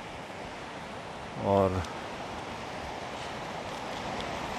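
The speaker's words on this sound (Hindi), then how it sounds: "अच्छा ये शोर ऐसा है पानी का कि बुरा नहीं लगता है" A rushing mountain stream fed by glacier and spring water beside a lake at Karagöl, Şavşat, Turkey, a loud, constant broadband roar filling the whole clip, with a brief spoken word in the middle.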